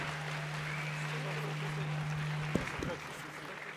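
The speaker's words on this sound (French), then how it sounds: "Encore bravo, on peut les applaudir" An audience applauds at a French awards ceremony for a student filmmaking contest about careers. The clapping is a steady, dense wash that fades slightly near the end, with a low hum underneath.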